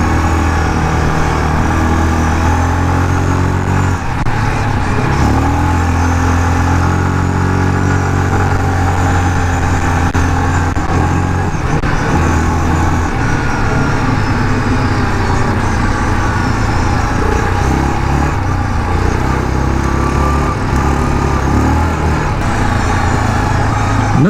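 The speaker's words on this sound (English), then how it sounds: "I'm barely on the brakes because the engine braking is just so good" A Yamaha off-road vehicle, a 2018 Kodiak 450 ATV or YXZ1000R side-by-side, runs loud and close while engine braking, with the engine note rising and falling continuously.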